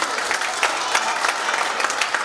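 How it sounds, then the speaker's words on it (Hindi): An audience at a poetry gathering for visually impaired poets breaks into warm, sustained applause to welcome a poet from Delhi, a dense even wash of clapping with no pause. "जोरदार तालियों के माध्यम से उनका स्वागत करें"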